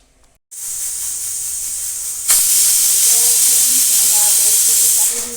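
A pressure cooker boiling eggplants on a gas stove lets out a steady, loud hiss of escaping steam that swells abruptly partway through and keeps rushing on to the end, with no voices.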